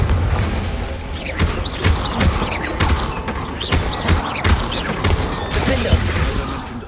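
Confringo fire spell blasts in Hogwarts Legacy: a string of repeated booming impacts and mechanical clatters, loud and rhythmic, over a steady bed of magical whooshes and game ambience.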